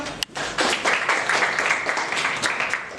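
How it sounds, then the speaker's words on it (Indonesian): A classroom of students gives a round of applause during a lesson, with a sharp tap at the start, then a brisk, fairly close burst of clapping that holds steady to the end. "Oke, tepuk tangan."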